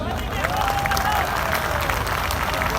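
Audience applause fills a poetry mushaira in Karachi, a steady, dense wash of clapping held at an even level throughout, with a faint tonal voice-like line running through the middle.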